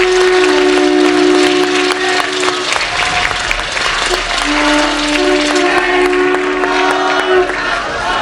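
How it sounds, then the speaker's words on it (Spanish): A crowd claps steadily and loudly throughout, with a sustained tone running under the applause. "hay que mandarle un aplauso desde aquí."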